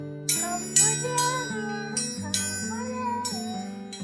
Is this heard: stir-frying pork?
no